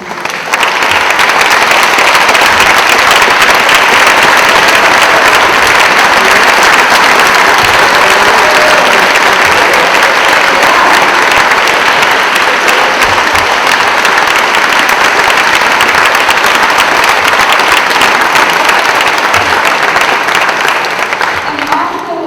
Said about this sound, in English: can you stand up so we can give you all readers another round of applause?